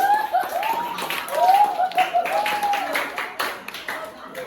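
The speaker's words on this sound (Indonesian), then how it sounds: "tepuk tangan dua. Tepuk tangan." Students in a classroom clap their hands in a short patterned burst, mixed with chattering voices and a sung or hummed tone over it.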